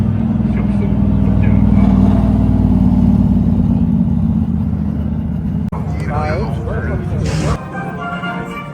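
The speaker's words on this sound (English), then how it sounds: "Cars rolling in." GT race cars roll in at the Paul Ricard circuit during a GT World Challenge weekend, their engines a loud, close, steady rumble among voices that eases off toward the end.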